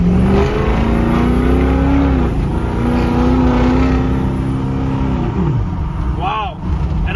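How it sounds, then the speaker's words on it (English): A 2006 Ford F-250 fitted with a cold air intake revs loudly up close. The deep engine note rises, holds and dips across several throttle blips, with a short rising whine near the end. "this thing sounds mean with that cold air intake."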